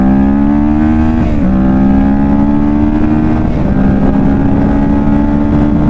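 A Kawasaki Ninja 650 motorcycle with an aftermarket exhaust runs at full throttle, producing a loud, buzzing drone that climbs in pitch, dips with two quick shifts, then climbs again.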